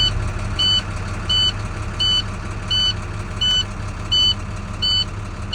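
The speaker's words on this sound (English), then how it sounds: "Start engine, position neutral, brake on, start engine." A truck idles steadily with a low rumble during a CDL in-cab inspection in New York, while a sharp electronic beep repeats about every 0.7 seconds over it.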